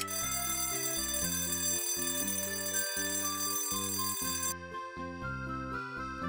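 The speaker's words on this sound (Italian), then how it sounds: "la nostra sveglia funziona" A cartoon alarm clock rings steadily in bright, repeated metallic tones, loud and continuous with a musical accompaniment, then the high ringing stops near the end while the melody carries on.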